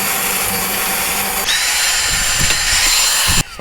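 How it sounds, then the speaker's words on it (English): A power drill whirs steadily while boring small 2.5 mm pilot holes in a pedal plate, loud and close, with a pitch shift partway through and a sudden stop near the end. "you can just do this with a normal drill if you're nice and steady and keep it nice and straight"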